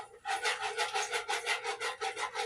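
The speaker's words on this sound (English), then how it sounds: "And just keep whisking all the lumps." A cream corn mixture of milk being whisked in a pot on a stove, quick rhythmic scraping strokes, about ten regular swishes, close and fairly loud with no talk.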